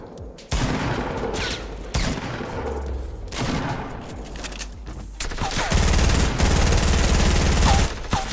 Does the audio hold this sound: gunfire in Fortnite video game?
yes